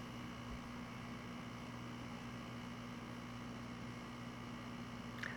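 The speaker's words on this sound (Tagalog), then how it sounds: "May noise po ulit yung ating aircon, mga boss" An air conditioner in a room gives a faint, steady electrical hum with a broad, even hiss, unchanging for several seconds, heard alone with no talking.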